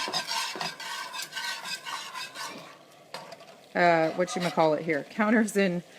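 Butter stirred as it melts in a pan for mac and cheese, a soft scraping, rasping swirl that runs under a voice talking throughout, with louder speech in the second half.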